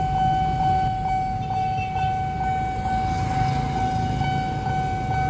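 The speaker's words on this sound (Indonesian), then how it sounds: "kereta bandara ya, railing dari Manggarai menuju ke Bandara Internasional Soekarno-Hatta, melintas dengan santuy di JPL 2 Menteng ini teman-teman" An airport rail link train from Manggarai to Soekarno-Hatta passes the JPL 2 Menteng level crossing in Jakarta: a steady, ringing crossing-warning tone sits over a continuous low rumble of the train rolling by nearby.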